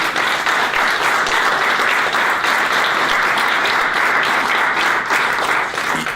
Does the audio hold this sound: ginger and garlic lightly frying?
no